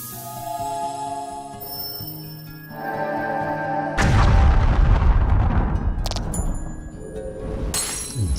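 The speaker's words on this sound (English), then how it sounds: "What a lovely explosion sound, don't you think?" The Force Impact attack in the Voice of Cards video game sets off a booming explosion effect. It bursts in midway over ringing tonal music, followed by crackling, shattering debris and bright chimes.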